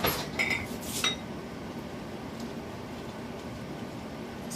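A spoon scrapes and clinks against a pot while a moringa dish with pepper is stirred, a few close metallic knocks at the start, then a low steady cooking noise.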